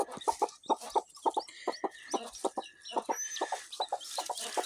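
Newly hatched Brahma cross Black Australorp chicks and hens peep and cluck in a rapid, steady stream of close, bright chirps, with a few sharper calls layered over the busy chatter.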